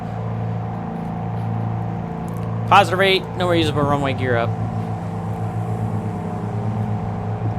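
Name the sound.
PA44 Seminole engine in Microsoft Flight Simulator 2020 video game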